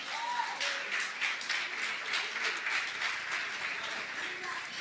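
A church congregation applauds together in a steady, fairly loud wash of clapping that holds for several seconds without letting up.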